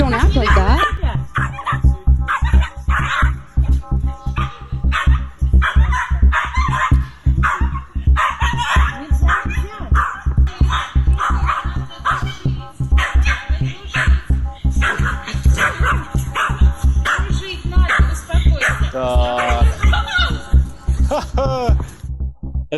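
A Yorkshire Terrier barks and growls rapidly and aggressively at other dogs, close and loud, with a voice speaking over the continuous commotion.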